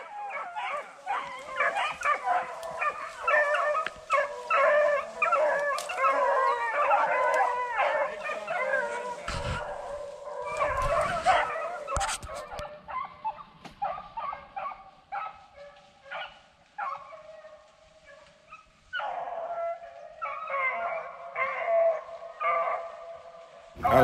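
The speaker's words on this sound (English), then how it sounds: "When them dogs cut off real quick after you done shot" A pack of beagles bays and howls continuously while chasing rabbits on a hunt, many overlapping voices at moderate distance with a brief break of thumps midway before the chorus resumes.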